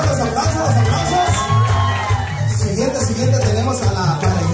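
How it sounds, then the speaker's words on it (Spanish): A party crowd at a Mexican quinceañera claps and cheers to welcome young girls, with whoops and children's shouts over a dense, continuous wash of noise and chatter. "Los aplausos por favor, los aplausos."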